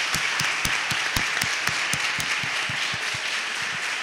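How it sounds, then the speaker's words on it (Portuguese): An audience at an academic inaugural lecture gives a round of applause, steady rhythmic claps at a moderate distance, fairly sparse and even rather than thunderous, with no talk over them. "Vamos encerrar esse momento com a salva de palmas para a Isildinha,"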